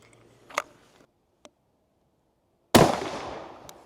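A single sharp gunshot cracks loudly and rings out with a lingering echo, preceded by a few faint clicks and a soft thud.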